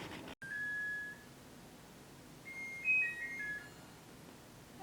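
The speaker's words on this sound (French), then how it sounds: "chaque fois que ma machine à laver sonne" A washing machine's electronic beeps sound faintly in a quiet room: a sustained tone early on, then a short series of brief higher beeps a couple of seconds later.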